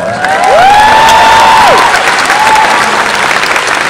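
Loud audience applause with cheering fills a premiere screening hall, a dense steady wash of clapping with a whistle-like rising tone and a second brief one riding over it.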